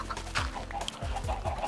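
Chickens clucking in the video game Minecraft, a few short close clucks in quick uneven succession.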